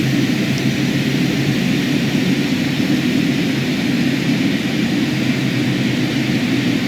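Twin turboprop engines of the Carenado King Air B200 in MSFS 2020 running with added power, a loud, even, continuous drone with a low throbbing hum and no speech.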